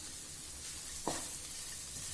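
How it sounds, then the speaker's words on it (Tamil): Onions, ginger, garlic and green chili frying in a pan, a soft continuous sizzle with one brief stirring scrape in the middle, faint and close, no voices. "இப்போ வெங்காயம் ஓரளவுக்கு வதங்கிடுச்சு"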